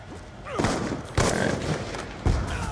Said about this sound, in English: This shotgun is so fun to trick shot with.